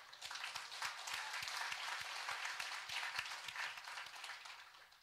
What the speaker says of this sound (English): I think we should give applause on this